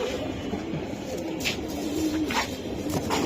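Giribaj pigeons, a silver male and female pair, coo in a low, soft, repeated rumble close by, a steady murmuring stream with a few brief sharper accents.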